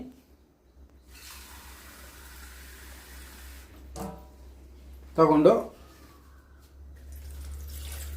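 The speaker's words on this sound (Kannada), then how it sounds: "ನಾನೀಗ ನೀರು ಹಾಕ್ತೀನಿ." Water poured from a glass into a vessel, about two glasses' worth, for a village home remedy for cold and cough. A steady rushing pour of a few seconds, then a brief spoken word and quieter kitchen sounds.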